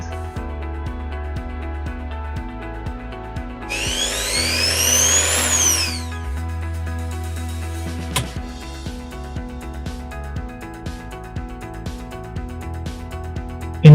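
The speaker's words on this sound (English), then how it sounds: "So I plug an AC consumer like this drill, and it will let me use my AC equipment" An electric drill running on AC power from a solar inverter hums with a steady electrical buzz, revving up to a loud whine for a couple of seconds before dropping back.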